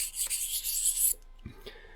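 A Meindl boot grinds against 3000-grit abrasive with a close, raspy, scraping rub for about a second. It then stops, leaving a few soft handling knocks.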